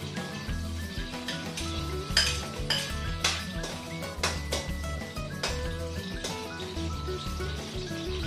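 Garlic sizzles in hot oil for a sautéed vegetable dish with kikiam and squid balls. A steady frying hiss runs under repeated utensil scrapes and clinks against the pan, and background music plays throughout.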